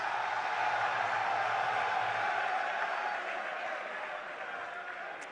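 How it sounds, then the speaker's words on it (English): Sustained applause and crowd cheering fill a hall for Adisadel College at the NSMQ quiz finals, a dense continuous roar that gradually softens. "A round of applause for Adisadel College."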